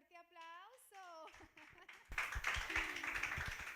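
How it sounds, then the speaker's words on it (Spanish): A church congregation starts clapping after a short spoken phrase, the applause swelling from quiet into a dense, steady patter with a voice rising briefly above it. "démosle un fuerte aplauso"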